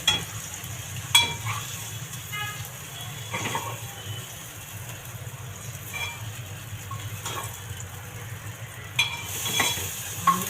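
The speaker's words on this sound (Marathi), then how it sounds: "कांदा फ्राय करून घेते." Onion frying in a pan for a mixed vegetable and paneer masala, a low steady sizzle with occasional scraping stir strokes and clinks, close-up and without speech.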